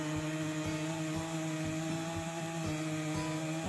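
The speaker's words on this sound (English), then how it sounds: "It is still the same chainsaw," Loud chainsaw engine roars steadily, its droning tone shifting as the blade bites through logs, with no voices.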